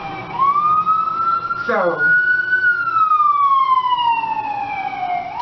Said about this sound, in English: you could tell the ambulance coming